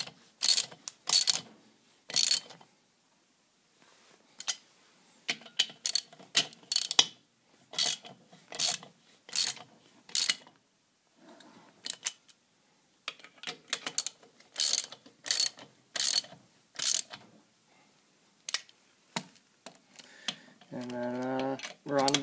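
Ratchet wrench tightening the bolts on wheel weights of a 210 tractor, with rapid repeated clicking strokes in close, loud bursts and short pauses, ending with a brief voice.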